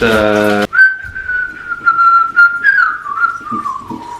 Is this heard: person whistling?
yes